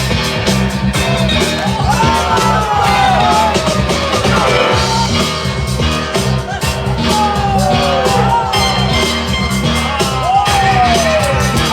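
A loud crowd at a hip-hop dance battle jam whoops, yells and cheers steadily over pounding music, with shouts rising throughout.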